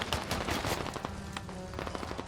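Rapid automatic gunfire rattles in the military shooter game Squad, dense overlapping bursts that stay loud and continuous throughout, with no voices.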